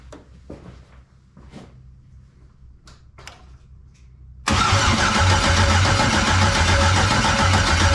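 A 1999 Pontiac Firebird with a swapped-in LS V8 sits quiet through scattered faint clicks and knocks, then catches at once and roars into a loud, steady, rumbling run that holds to the end, close to the microphone.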